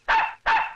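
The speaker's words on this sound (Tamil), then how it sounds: "என்னடா நாய் சிரிக்குது?" A dog gives two quick, close barks in a row, each short and sharp with a brief trailing tail, set against otherwise quiet surroundings in a Tamil comedy scene from the film Manadhai Thirudivittai.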